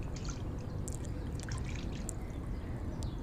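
Water pours and splashes in soft trickles as a banana flower is washed in a village kitchen, faint and close with scattered drips.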